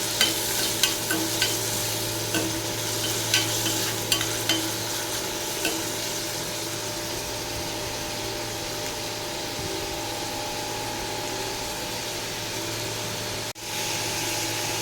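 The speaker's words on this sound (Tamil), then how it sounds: "இப்போ கட் பண்ணி வச்சுக்கிற வெங்காயத்தை ஆட் பண்ணிக்கலாம்" Freshly added chopped onions frying for a crab gravy, a continuous close sizzle with light clicks of stirring in the opening seconds, then steady frying alone.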